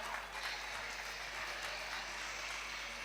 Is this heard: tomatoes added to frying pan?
no